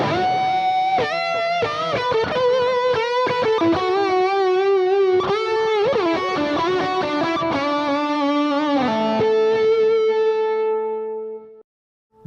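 An electric guitar plays a melodic lead through a Mesa Boogie Lone Star amp, a big warm tone with echo trailing sustained notes and quick runs, loud and continuous before ringing out and stopping near the end.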